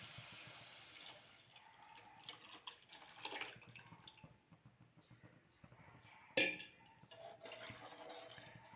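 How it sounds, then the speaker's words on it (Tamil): Liquid kuzhambu gravy mixture poured into a pan over well-sautéed ingredients, a steady close splashing and gurgling pour lasting several seconds at low level, broken by one sharp clatter near the end, with no talking. "குழம்பு ஊற்றிப்போம்."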